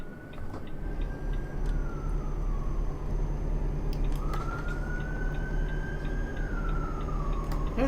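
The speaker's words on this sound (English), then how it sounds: "Hearing a lot of sirens today around my way" A siren wails steadily at a distance, rising and falling in long sweeps over a constant low engine hum, with no talk.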